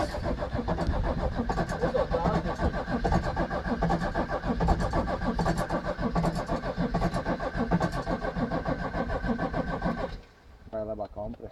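A six-cylinder car engine, left unused for about six years, cranks and runs roughly and steadily for around ten seconds before cutting out. The sound is close and moderately loud, with voices talking over it.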